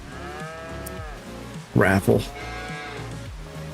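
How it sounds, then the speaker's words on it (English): Cattle mooing in Farming Simulator 25 on a snowy Witcombe Park Farm map, one loud close moo in two swelling parts rising over a steady bed of farm ambience and soft game music. "Oh, I have more cows here."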